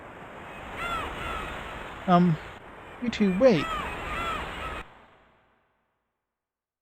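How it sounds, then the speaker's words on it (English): Seagulls in the PS1 video game Eternal Eyes give a few shrill, wavering cries mid-scene over a soft ambient bed, with a character's voice speaking briefly between the calls. "So many seagulls."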